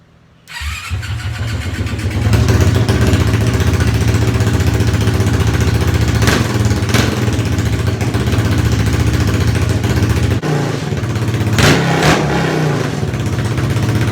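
A Yamacart kart engine cranks and fires up after a brief quiet start, then runs loudly and steadily nearby with two sharp revs partway through.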